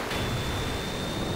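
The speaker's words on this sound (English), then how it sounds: "Ooh, waterfall. It's so pretty." A waterfall in the offroad racing game Nail'd gives a steady, loud rushing roar with no break, a faint thin tone running above it.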